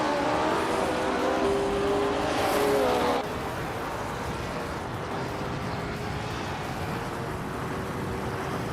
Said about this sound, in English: Maya and Scuderia Veloce are nose to tail for 7th place